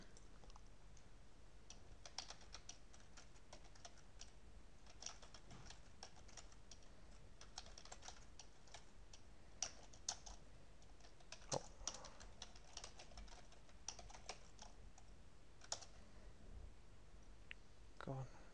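Fingers type a matrix into a computer keyboard in a steady run of light, close key clicks with a few louder taps, continuing throughout with a faint room hum beneath.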